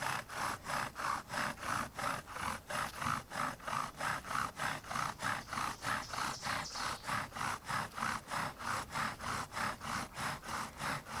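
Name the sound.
bow drill spindle burning in wooden handhold and fireboard socket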